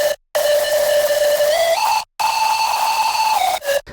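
A bright, pure whistling synth lead, a sine wave with a noise oscillator, holds long notes and steps between pitches, with short silent gaps between phrases; loud and alone.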